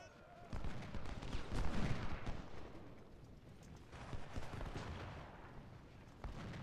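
Gunfire from a Grenadier infantry unit in a Civil War battle strategy game at Shiloh, rolling volleys and crackling musketry in the distance, fairly faint, with a heavier burst in the middle.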